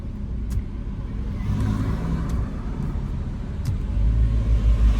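A car pulls out and drives off on a hot late afternoon, its engine rumbling low and steady, the sound swelling slightly as it gathers speed toward the end, with no talking.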